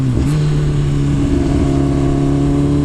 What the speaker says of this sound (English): Now we're gonna start downshifting.